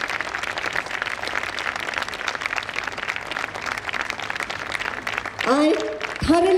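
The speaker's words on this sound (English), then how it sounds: "They deserve a huge round of applause" Office bearers at a FLO Indore 10th anniversary and awards celebration are met by a crowd's lively applause, sustained clapping that fills the hall before a voice cuts in at the end.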